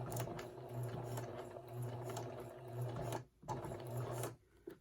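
A sewing machine stitches a button onto fabric, its needle running in steady rhythmic bursts of mechanical whirring and clatter, close and fairly loud, with brief pauses between runs and no talking.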